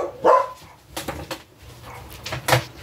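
Puppies barking: a handful of short, sharp yaps in an irregular rhythm, with one louder burst near the start and another near the end, and fainter bark-like sounds and small clatters between them.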